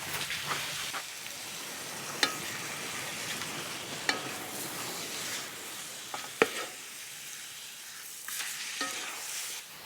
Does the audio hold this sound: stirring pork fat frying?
yes